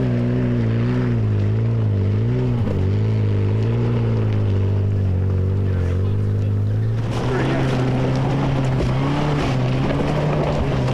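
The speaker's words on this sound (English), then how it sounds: "Nick and Lorraine Gibbs have no problems with the loose surface in their Marlin" A Marlin car climbs a loose-surface section at the MCC Exeter Trial, its engine droning loud and close with rising and falling revs, then shifting to a rougher, gritty roar as wheels churn the surface.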